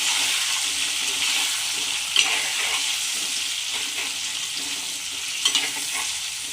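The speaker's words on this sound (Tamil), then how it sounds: "போட்டு நல்லா வதக்கி விடுங்க." Brinjal sizzles and fries in oil in a pan for ennai kathirikkai kuzhambu, a steady close hiss broken by a couple of faint stirring scrapes.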